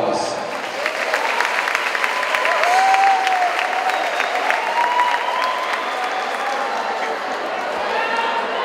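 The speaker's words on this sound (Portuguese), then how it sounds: "Mais uma vez, uma salva de palmas" Applause and cheering for the Tupi team from the Macau campus at a school games opening ceremony, with a sustained crowd roar of clapping and whistles throughout, a tonal whistle-like sound rising briefly in the middle.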